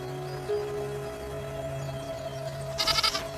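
Feral goats on the Galapagos Islands bleat amid a steady background drone, with a cluster of sharp, close, wavering calls near the end.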